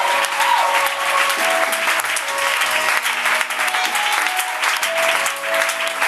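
A church congregation claps together in sustained, dense applause, loud and continuous throughout with a steady wash of hands and faint voices beneath.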